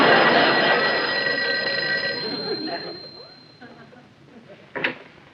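A telephone bell rings loudly at first, then fades out after a couple of seconds, leaving a quieter stretch broken by a brief sharp sound near the end.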